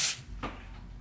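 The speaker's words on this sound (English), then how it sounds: "I'm going to get my non-stick spray, and I'm just going to coat the bottom of the pan slightly" Non-stick cooking spray hisses from an aerosol can onto the bottom of a baking pan for an apple turnover pie, two short close bursts, the first sharper and the second softer, with no talking.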